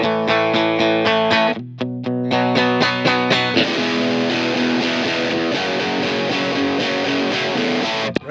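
Electric guitar run through a distortion pedal, playing loud chordal riffs with sustained, saturated tone that thickens into a denser, heavier wash partway through, with no talking.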